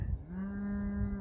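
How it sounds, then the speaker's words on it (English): Cattle on a hillside farm pasture give a single long, low moo, steady and moderately near, with no talk over it. "I got cows up here on this pasture"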